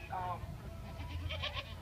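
A goat doe at a fair show gives a short wavering bleat early on, followed by quieter animal sounds and background murmur under a voice.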